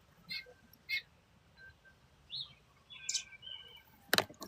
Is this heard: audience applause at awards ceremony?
no